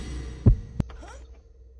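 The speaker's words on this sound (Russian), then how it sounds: "когда услышал сердцебиение" Heartbeat in the horror game Soul at Stake, two close, deep thumps in quick succession followed by fading low rumble.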